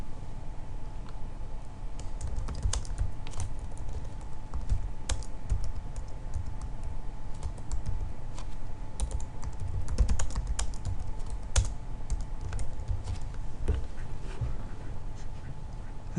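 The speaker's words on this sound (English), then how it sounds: "We can then type in the order number" Typing on a computer keyboard while entering order details, with steady irregular key clicks and occasional sharper taps over a faint background hum, alone without talk.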